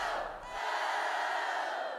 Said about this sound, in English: Job number 3, take part in the group cheer.